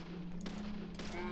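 Rapid bursts of gunfire from zombies armed with guns in the horror game Deadly Premonition, a dense rattling volley that stays loud and steady for the whole moment.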